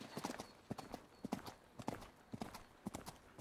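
A horse's hooves clip-clop in a steady, even walking rhythm, the crisp hoofbeats fairly faint and heard on their own.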